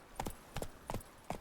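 Roach the horse's hooves clop in The Witcher 3 with four clear, evenly spaced double-beat strikes close up, each a quick two-part clatter over a quiet background.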